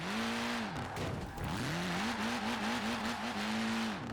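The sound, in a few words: upgraded Mini engine revving high in Forza Horizon 4 video game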